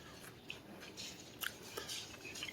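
Crispy air-fried chicken strips being bitten and chewed up close, giving a few soft, crackly crunches over about two seconds, with no talking.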